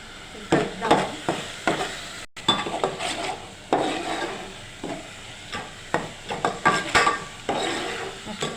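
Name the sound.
stirring spices in a frying pan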